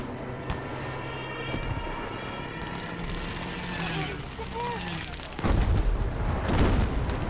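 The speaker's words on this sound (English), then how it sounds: "Battlefield does the best explosions." Battlefield V battle sounds: gunfire cracks, booming explosions and rumbling vehicle noise build to a heavier, louder barrage near the end, with voices talking underneath.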